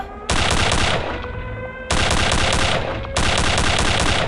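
Venom gun from Return to Castle Wolfenstein firing in three long, loud, continuous bursts with short gaps between them, a dense mechanical roar with no voices over it.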